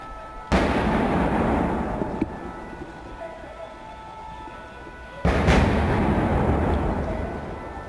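Gunfire at Le Carillon restaurant in Paris: two sharp, loud blasts about five seconds apart, each a sudden broadband crack trailing into a long rumbling decay, with a fainter pop between them.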